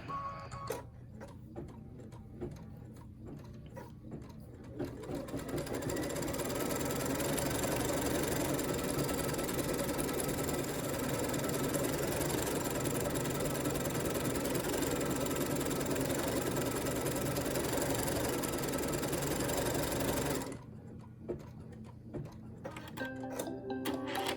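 An embroidery machine stitching a hexagon design: after a few seconds of scattered clicks and handling noise it settles into a loud, steady mechanical whir with rapid needle rhythm for about fifteen seconds, then stops and returns to light clicking.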